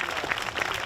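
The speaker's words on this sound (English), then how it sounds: "Let's give them a round of applause right here." Brief, steady applause from a crowd at a Veterans Day event, clapping for uniformed Marines, close and fairly loud.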